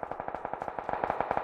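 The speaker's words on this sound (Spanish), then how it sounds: "Me disparan" Automatic gunfire in PUBG on the Vikendi map, a rapid, even rattle of shots at a steady fast rhythm, fairly faint and distant-sounding with no talk over it.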